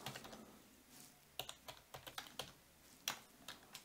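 Fingers tapping a computer keyboard while writing Arduino code, a quiet run of separate key clicks in an uneven rhythm with short gaps, close and faint.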